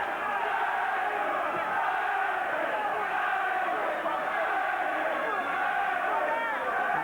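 A crowd of about 3,000 at the Dennis Andries versus Jeff Harding boxing match cheers in a steady, dense roar that fills the arena without breaks, far-off and continuous.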